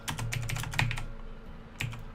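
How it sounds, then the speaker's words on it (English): A loud computer keyboard typed on close up: a quick run of sharp clicking keystrokes, a pause, then one more brief burst of keys, with no voices. "I do apologise for the keyboard."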